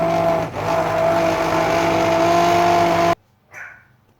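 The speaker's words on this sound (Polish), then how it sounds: "Tak więc teraz blendujemy, może wyłączę, żeby nie hałasowało nam." A loud, steady blender motor whine with a constant pitch runs for about three seconds while blending lettuce cream soup, then cuts out abruptly, leaving a short soft rustle.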